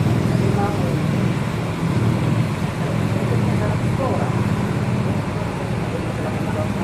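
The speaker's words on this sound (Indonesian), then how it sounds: "Inilah keadaan terminal Pondok Pinang Lebak Bulus nih." Steady, dense ambience at the Pondok Pinang Lebak Bulus bus terminal, a constant roar of idling and passing road traffic with bus engines and murmuring crowd voices blended underneath throughout.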